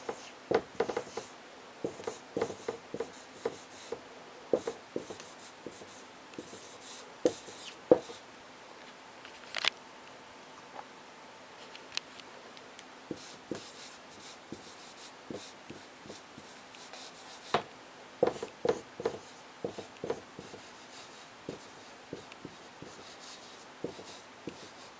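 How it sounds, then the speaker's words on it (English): Handwriting an answer with a pen on paper: sparse scratchy strokes and small taps scattered irregularly across a quiet background, close but faint. "I'll write it down."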